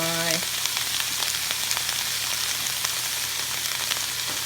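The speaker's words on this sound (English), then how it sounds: "this is my cilantro and green onions. Add that. All right. Get that stirred up." Cilantro and green onions stirred into a hot frying pan of Vietnamese crispy and soft egg noodles with chicken and beef, giving a steady, close sizzle with light stirring scrapes throughout.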